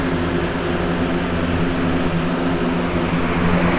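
A Lasko box fan runs close by with a steady, loud whooshing rush of air over a constant motor hum. It stays even throughout, with no talking.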